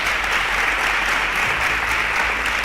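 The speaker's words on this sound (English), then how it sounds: "A round of applause for her." A studio audience at a televised school quiz show gives a quiz contestant a steady round of applause, dense and even throughout, with no voices over it.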